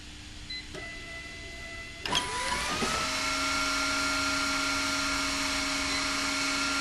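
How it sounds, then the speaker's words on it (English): A Foxjet Spec E label applicator's vacuum fan spins up with a sharp electric whine that rises in pitch and settles into a steady, loud, close hum, with no talking. "5 seconds later the fan will go back to its normal idle speed"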